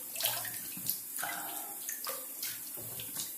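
Running water splashes as a face is rinsed after a close wet shave, with close, uneven bursts of splashing and gurgling that come in short rhythmic pulses, with no talking.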